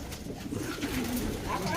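Pigeons coo inside a pigeon loft, low soft calls under a busy background of rustling and faint voices nearby.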